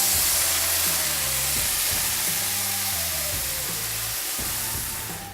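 Hot vegetable stock hits toasted risotto rice in a hot pan, giving a loud, steady sizzle and hiss that slowly eases, with faint clinks of a utensil in the pan.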